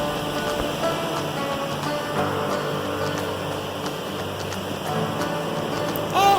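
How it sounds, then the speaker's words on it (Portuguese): Ocean waves at high tide break against rocks that shelter a small pool, a constant loud wash of surf and spray rushing without pause, swelling slightly near the end. "As ondas não passam as rochas e formam uma piscininha aqui"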